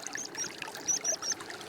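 Small stream on Dartmoor trickling and splashing close by, a light bubbling patter with a few brighter gurgles, alone and fairly quiet.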